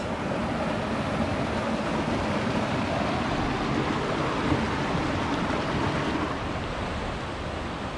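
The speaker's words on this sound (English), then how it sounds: "These are the White Horse Rapids, and they're quite pretty." Steady, dense rushing of the White Horse Rapids in Idaho, a continuous broadband roar of whitewater with no breaks, close and loud throughout.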